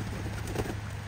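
Pigeons cooing softly outdoors after rain, a low, steady murmur of coos from birds near a rooftop, with a continuous hum in the background.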